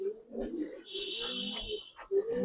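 Pigeons coo at a pigeon market, soft rolling throaty calls overlapping close by, accompanied by a faint higher chirp against light background clatter.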